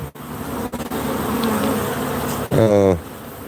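Honey bees swarm and buzz around a beekeeper's hives, a dense, steady drone held close and loud throughout, with a brief voice-like tone near the end.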